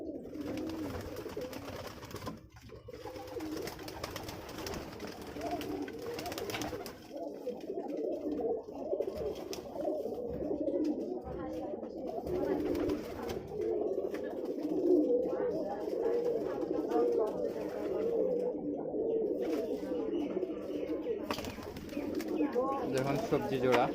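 Giribaz and Pakistani-breed pigeons coo continuously in a loft, a steady layered murmur of overlapping calls at moderate distance while someone talks over them throughout.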